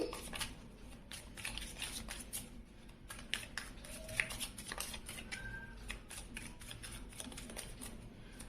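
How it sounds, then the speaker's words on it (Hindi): Tarot cards riffled and shuffled in continuous rapid flutters and taps, close up and soft against a low background hum, no talk. "कार्ड शफल करते हैं"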